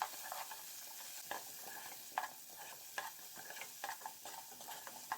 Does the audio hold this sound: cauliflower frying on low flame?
yes